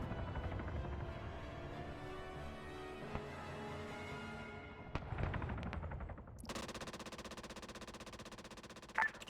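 A helicopter's rotor drone fills a military video game scene while bursts of gunfire fire at a more distant helicopter, cut by a sharp crack and then a buzzy, rapid mechanical stutter, all loud and close with no talking.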